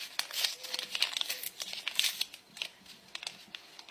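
A plastic bag holding a foot-care ingredient is handled and crinkled by hand, giving close, bright, irregular crackles and rustles in quick bursts throughout, with no talking.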